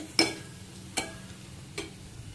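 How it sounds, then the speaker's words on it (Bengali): Chili-spiced masala for a pabda fish curry fries in a pan, with three distinct scraping stirs spaced apart over a low, faint sizzle. "মশলাটা আমি ভালোভাবে কষিয়ে নিচ্ছি।"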